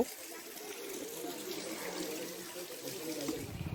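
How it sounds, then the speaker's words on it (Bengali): Thin, steady water trickle from the small Ghagra Waterfalls, low on water in the dry season, heard as a continuous outdoor wash with faint background voices. "দেখো এটা ঘাগরা ওয়াটারফলস, যদিও এখন জল খুব একটা নেই"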